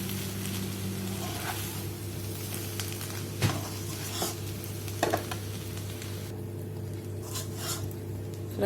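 Egg fried rice sizzles in a pan as it is stirred, a soft steady frying hiss under a low hum, with several sharp scrapes and knocks of a utensil against the pan.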